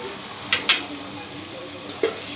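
Spices and masala fry in oil for a Bengali muri ghonto with Gobindobhog rice, a soft close sizzle broken by a few sharp clinks and scrapes of stirring.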